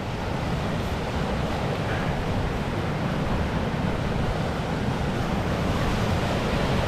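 Steady broadband rush of river water pouring past rocks along an ATV trail in Nova Scotia, loud and continuous with no voices over it.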